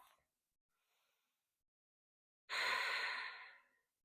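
A single full breath during a yoga hamstring stretch: faint brief breaths early, then one strong, close exhale lasting about a second before fading to silence.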